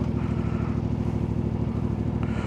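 Steady, throbbing idle of an adventure motorcycle engine (CF Moto 450, Honda Transalp or Ducati Desert X), close and loud with an even pulsing beat and a slight rise near the end.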